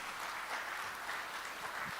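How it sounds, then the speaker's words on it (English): Crowd at a corporate 5G launch event applauding the Airtel Kenya team, dense continuous clapping filling a large hall, steady and fairly loud for a couple of seconds. "Let's give them a big round of applause."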